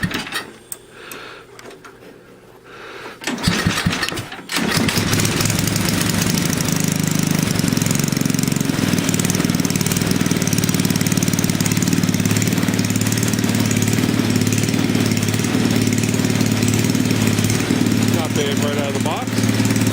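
Snow blower engine with too much gas, idling at its lowest speed: a steady, loud, rough mechanical drone that starts up a few seconds in after some knocking and handling, then runs continuously, with a voice briefly over the start.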